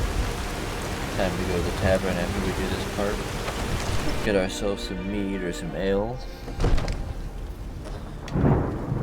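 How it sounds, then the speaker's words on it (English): Rain and thunder in Skyrim Special Edition with the Vivid Weathers mod: steady rainfall hisses throughout with low thunder rumbling, under someone talking and game character voices. "Makes the rain way more realistic."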